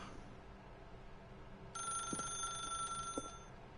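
A telephone rings in the video game The Stanley Parable, a bright electronic ringing tone that starts partway through over a quiet hum and holds steadily for over a second with a couple of faint clicks.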